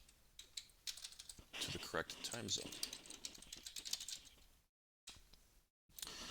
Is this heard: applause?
no